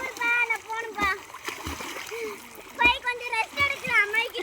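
Water splashes in a swimming pool as a child paddles with the arms. Irregular splashes are heard up close, mixed with a voice and an adult talking.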